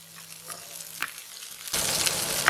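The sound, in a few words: frying dried red chillies, onion and garlic in oil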